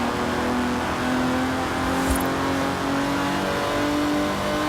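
A 1964 Superleggera-bodied car with carburettors, driven in Forza Horizon 4, revs its engine in a steady, loud drone with a rising tone throughout and no voices.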